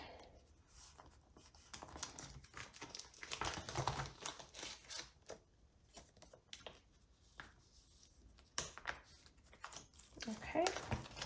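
Plastic photocard inserts rustle and crinkle in irregular bursts while being handled and slid into binder pages, close and fairly quiet, with talk running over them.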